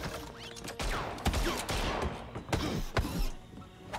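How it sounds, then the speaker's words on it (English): Bursts of gunfire from the villain-lair video game Evil Genius 2, a few sharp shots scattered over mechanical clatter at low level, with no talk. "He's shooting. He's shooting blind."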